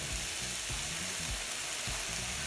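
Pressed garlic sizzles in a hot pan for a meat-filled gozleme, a steady close frying hiss with soft crackles and no voices.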